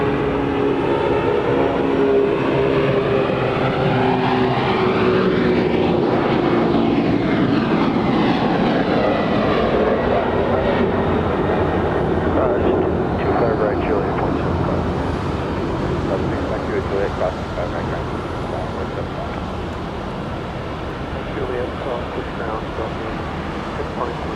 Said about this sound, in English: This is a 27-year-old 767.